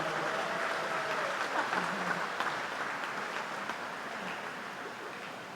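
An audience at the NZ Open swimming championships applauds in a steady, dense patter of clapping heard from a distance in a reverberant pool hall, without talking.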